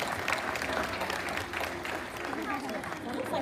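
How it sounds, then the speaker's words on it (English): A live-show audience at Dreamworld applauds for three tigers, with a sustained, mid-distance clapping that runs beneath a presenter's ongoing voice. "So we might start off with a big round of applause for all of the three tigers out here"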